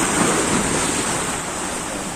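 Ocean waves wash against a shore at a fishing spot in a steady, dense roar of surf, with wind buffeting the microphone throughout and no voices.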